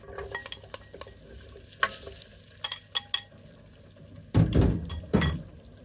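Onion frying in a pan, with sporadic scraping and stirring clatters followed by two louder bursts of sizzling as pieces hit the hot oil, close and clear.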